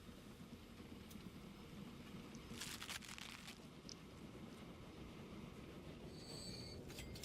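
Trains in the Transport Fever video game rumble along as a quiet, steady rolling drone, with a brief burst of wheel noise midway and thin squealing tones near the end, no talk.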